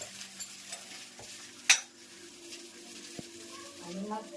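Mustard seeds and cumin tempering in hot oil for a home-cooked dish give a faint, soft sizzle, with one sharp utensil clink partway through and light background murmur.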